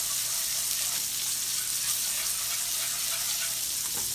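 Chicken fried steak cooking on a flat top griddle, giving a steady, close, even sizzle and hiss that holds throughout with no pauses and no talking.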